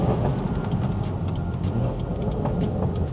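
Steady loud road rumble from traffic behind a BMW B58-powered car, a dense continuous roar of engines and tyres with a few brief sharper bursts, no talk over it.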